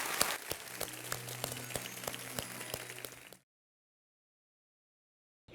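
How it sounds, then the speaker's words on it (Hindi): A television quiz show audience applauds to welcome the contestants, with dense clapping for about three seconds before it cuts abruptly to silence. "तालियों के साथ उनका स्वागत"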